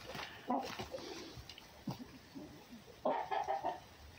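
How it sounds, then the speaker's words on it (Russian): A chicken clucks in short, scattered bursts at moderate distance, with a louder cluster of clucks near the end and quiet background noise between. "Курица тут лазит."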